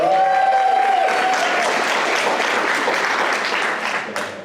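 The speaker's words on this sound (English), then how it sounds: "give a round of applause" Student audience applauding at an APASU event: steady dense clapping from a crowd, loud and sustained throughout, tapering slightly at the end, with a brief whistle or cheer near the start.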